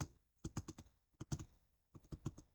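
Quick bursts of computer keyboard typing, close and quiet, with rapid clusters of keystrokes separated by short pauses and no talking.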